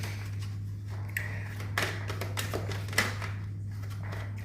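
Tarot cards being shuffled by hand give a series of soft, papery riffles and light taps, close and fairly quiet, over a steady low electrical hum with no talking.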